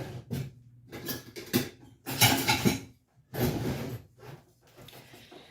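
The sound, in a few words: wooden spoon mixing homemade granola in a bowl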